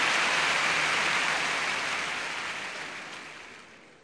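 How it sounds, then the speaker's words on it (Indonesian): A crowd at a Buddhist gathering claps for a married couple, a dense hiss of many hands that holds steady and then gradually fades away toward the end. "Tepuk tangan yang meriah untuk saudara Salim Chow dan saudari Mary."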